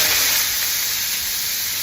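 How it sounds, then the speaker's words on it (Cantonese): Chinese liquor hits a hot pan of frying pork, giving a brief, steady, close hiss of steam without voices. "又落啲燒酒落去"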